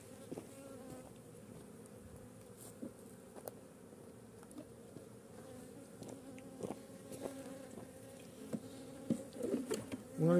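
Bees hum in a continuous, fairly faint drone around a beehive at feeding time, with a few nearer buzzing passes and light knocks toward the end.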